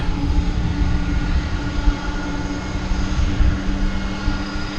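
An airplane's engines roar steadily at DFW Airport at night, a loud, continuous jet drone with a low rumble and no voices.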